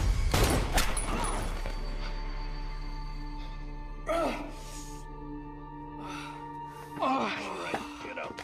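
A gunshot in a TV drama scene rings out sharply at the start, followed by a long tonal music bed with a couple of softer swells and movement sounds, no one speaking.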